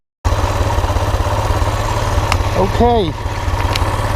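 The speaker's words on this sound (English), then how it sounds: "seems to be somewhat happily idling away" A fire-damaged 2001 Kawasaki Bayou KLF 300 ATV engine idles steadily and close by with a rapid even thump, while a person talks briefly over it.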